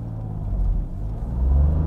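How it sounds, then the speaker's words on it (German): A Dacia Jogger TCe 110 three-cylinder petrol engine pulls away from a stop in first gear, giving a low, steady rumble heard from inside the car that swells as it accelerates, with no talking. "den Dreizylinder-Sound, ganz klar."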